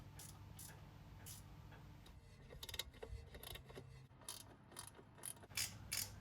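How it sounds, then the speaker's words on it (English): A ratchet spanner tightening the lower grab rail frame bolts on a Kawasaki S1 550 four gives off bursts of quick, close mechanical clicks. They come in uneven runs with short pauses between them, over a faint background hum. "using my ratchet spanner, I can tighten both the bolts up tight."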